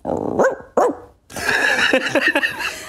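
A singer imitates a dog bark with her voice: two short yelping barks, then a longer, louder whining bark-like call that wavers in pitch, close and clear.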